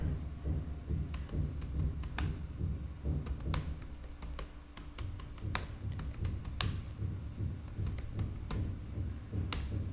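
Typing on a computer keyboard while drafting a mail reply in Microsoft 365 Copilot, with rapid, uneven clusters of close key clicks and taps running steadily throughout.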